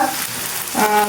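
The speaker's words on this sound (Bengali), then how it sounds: "তেলটা গরম হয়ে গেছে, আমি দিয়ে দিলাম পেঁয়াজ পরিমাণ মতো" Onions sizzle in hot oil in a pan, a loud, steady crackling hiss that swells slightly toward the end, with no talk.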